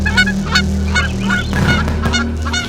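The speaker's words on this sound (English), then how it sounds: "Meet the noisiest species on Earth, the English grey goose." English grey geese honking loudly and close, a dense overlapping chorus of repeated harsh honks over a steady low engine hum near a narrowboat.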